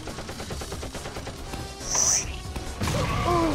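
Rapid gunfire in a video game boss fight, aimed at the boss's arms, crackling in a quick stream mixed with game effects and a voice talking over it.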